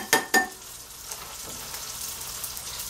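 Chicken frying in grapeseed oil in a large skillet crackles and sizzles continuously at moderate level, opening with two sharp metallic clinks of utensils against the pan.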